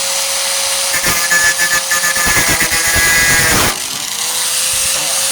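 Flux core welding on the rusted tailgate of a 1998 Ford Ranger, a steady crackling sizzle lasting about three seconds with a faint hum throughout, then cutting off into quieter shop noise.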